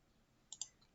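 Two quick, faint computer mouse clicks close together, alone with no talking.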